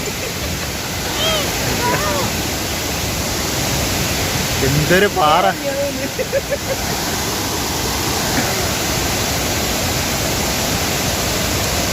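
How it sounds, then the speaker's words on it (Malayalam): Vazhachal waterfall roars as a loud, steady rush of falling water that fills the whole scene, while a voice briefly speaks over it. "അതിമനോഹരമായ വാഴച്ചാൽ വെള്ളച്ചാട്ടമാണ് ഈ കാണുന്നത്"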